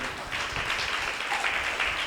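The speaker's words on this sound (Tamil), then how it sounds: "எல்லாம் கைத்தட்டி அப்பாக்கு மகிழ்ச்சி செலுத்துங்க" Congregation at a Tamil Christian church service clapping hands together, a dense, steady wash of applause that fills the whole moment at even loudness with no speech over it.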